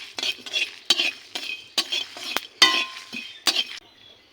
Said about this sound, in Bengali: বড়সজটা এভাবে কিছু সময় ভেজে নিতে হবে।